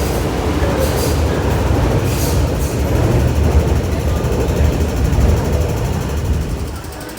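A metro train rumbles loudly and steadily past, with faint squealing from the wheels and a low rolling roar as it pulls into Kwun Tong Station.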